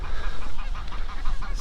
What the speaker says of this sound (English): Lots of swans here this morning